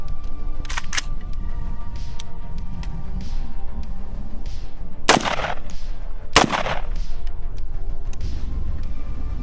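A KS-47 rifle fired outdoors, with several sharp, loud single gunshots spaced seconds apart, two close together early and two stronger reports later, over a steady background hiss.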